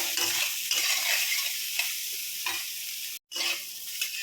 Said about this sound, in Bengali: এখন সোয়াবিনগুলো ভেজে নেব